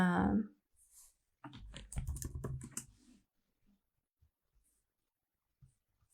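Someone types on a computer keyboard: a quick burst of clustered key clicks, then a few scattered taps trailing into near silence, all quiet and close.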